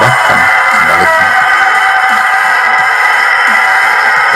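Free-range village chickens fill the yard with a steady, loud crowing and clucking, a rooster's call rising over continuous dense fowl noise with no talk.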